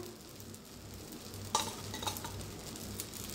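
Dosa batter spread on a hot pan sizzles steadily as oil is added on top, with a soft continuous frying hiss and a brief louder burst midway; no one speaks.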